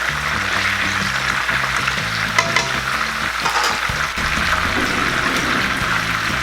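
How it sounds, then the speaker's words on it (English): Red snapper and plantains fry together in a pan for a Jamaican dish, a steady close sizzle and crackle running throughout with occasional stirring and utensil scrapes, and no voices. "now I'm just going to cook my plantains while the fish is cooking"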